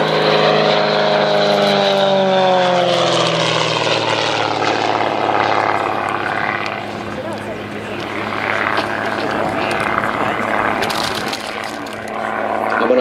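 Gamebird GB1 propeller aerobatic aircraft at Sywell airfield, its engine drone loud and sustained through a negative-G push and roll, pitch sliding downward as it passes, with commentary speech over it throughout.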